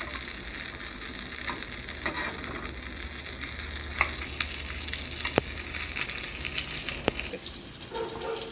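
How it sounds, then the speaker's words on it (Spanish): Chiles fry in a pan with a steady, dense sizzle that carries through the whole stretch. Occasional pops and scraping clicks break in along with faint clatter, and there is no talk. "Vamos a freír los chiles también."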